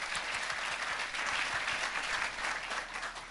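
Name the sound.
congregation applause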